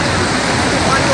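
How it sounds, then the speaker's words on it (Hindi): Floodwater from a swollen river rushing over a bridge, a loud, dense and unbroken roar with no breaks. "नदी का पानी हाहाकार मचाता हुआ पुल के ऊपर से बह रहा है"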